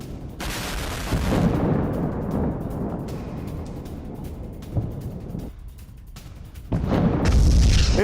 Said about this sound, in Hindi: विस्फोटक से भरे रूसी सैन्य व्हीकल में विस्फोट हुआ